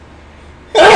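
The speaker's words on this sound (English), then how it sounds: "I'm about to sneeze" A single sudden sneeze bursts in after near silence, loud and close, with a sharp broadband onset held to the end.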